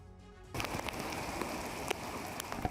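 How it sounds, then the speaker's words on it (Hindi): Heavy monsoon rain in Mumbai pours down in a dense, steady roar that starts abruptly after a quieter moment, with scattered louder splashes and drips standing out. "सुबह से ही कई शहरों में तेज बारिश हो रही है।"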